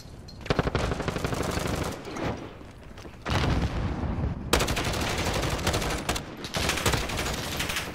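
Rapid automatic video-game gunfire in bursts, loud and close, with bursts of sustained shooting separated by short lulls and no talking over it.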